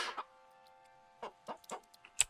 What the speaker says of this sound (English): How many chickens we got? We have 102 chickens.